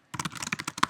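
Quick, even keystrokes on a computer keyboard, about a dozen light clicks in a brisk run, close and fairly quiet.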